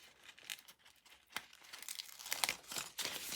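Paper or a sticker peels away in a handmade journal with quiet, close crinkling and tearing rustles in short irregular bursts, building slightly toward the end.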